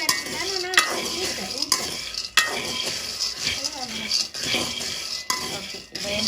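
Peanuts roast in a pan, stirred with a metal utensil, giving repeated scraping, rattling clinks and a light sizzle, close and busy, with a voice talking faintly in the background.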